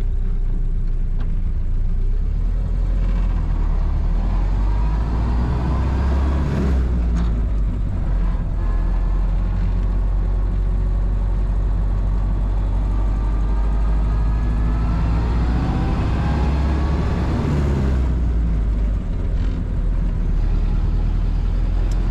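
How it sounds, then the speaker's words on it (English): A 1931 Ford Model A five-window coupe drives along with its engine running steadily, a low, even rumble with gentle swells as it rounds a roundabout, heard from inside the car with no talking. "Very nice running 1931 Ford Model A."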